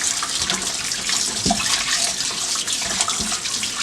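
Tap water running steadily into a sink while raw oxtail is washed by hand for a Jamaican oxtail stew, with a few soft splashes and knocks over the constant flow.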